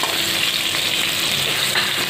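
A tempering of bay leaf, green chilli and dried chilli in oil in a wok sizzles loudly and continuously, a dense steady crackle with no talking.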